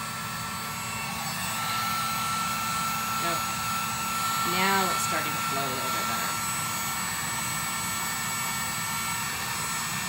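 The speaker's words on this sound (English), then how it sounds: "I'm gonna use my heat gun to make the epoxy run a little bit more, so excuse my noise." A heat gun blows steadily on poured epoxy, a constant loud airy whoosh running the whole time while a person talks over it.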